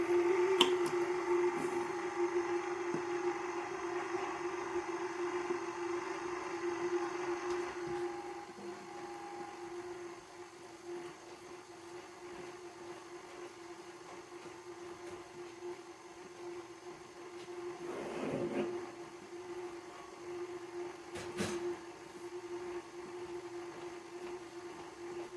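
An electric stand mixer running on its stir speed, beating cake batter, makes a steady, faint motor hum for about half a minute, with a few light clicks.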